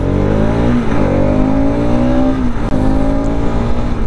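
A 2023 Bajaj Pulsar RS 200 motorcycle with a 200 cc engine accelerates hard, its close, loud engine note climbing steadily in pitch through a couple of brief gear-change dips, with no talking.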